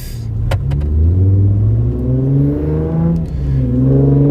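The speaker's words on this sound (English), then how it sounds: "there's this guy that's got this really cool car that wants to show off" A car engine revs loudly and close by, rising and falling in pitch through a few surges, with a steady rumbling drone underneath.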